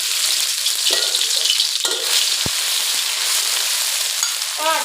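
Curry paste is stir-fried in a pan for a holy basil pork dish, a loud continuous sizzle and hiss with repeated scraping strokes of the spatula and one sharp knock partway through, with no speech.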